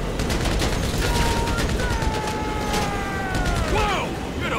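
Rapid video-game gunfire in GTA 5 during a fight aboard a cargo plane: dense bursts of shots over a loud engine roar, with tonal whines and a short squealing sweep near the end.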